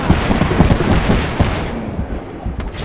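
Rapid gunfire from the video game Apex Legends rattles in dense bursts, loud and crowded, fading toward the end of the stretch with no speech over it.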